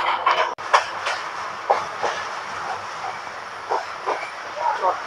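Riding aboard the Porjatak Express from Dhaka to Cox's Bazar, the carriage rumbles and clatters steadily with intermittent rail clicks as it slowly overtakes a Chittagong-bound container train alongside.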